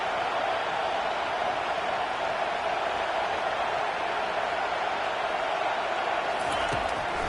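Football stadium crowd on third down, a dense, steady roar of many voices filling the air, loud and continuous throughout.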